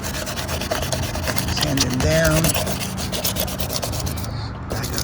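Carbon fiber hood of a 2006-2011 Honda Civic being wet sanded by hand, giving a continuous close gritty rubbing with repeated strokes, while a voice briefly speaks over it.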